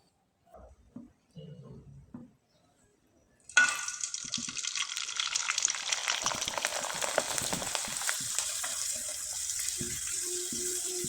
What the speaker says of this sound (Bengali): এবার আমি কিছুটা পাঁপড় বা পিঠা আপনাদের ভেজে দেখিয়ে দিচ্ছি